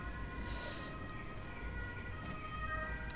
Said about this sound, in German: Ey, dieser Krankenwagen wird immer lauter, was ist das?